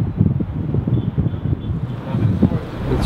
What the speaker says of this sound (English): It basically means that it's strong wind, we have to wait.